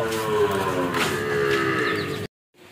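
A long, loud, low moo from a Sahiwal cow close by, sustained for about two seconds before cutting off abruptly.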